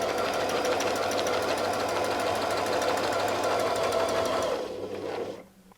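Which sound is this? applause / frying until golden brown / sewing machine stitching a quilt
sewing machine stitching a quilt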